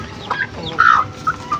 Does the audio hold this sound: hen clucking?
yes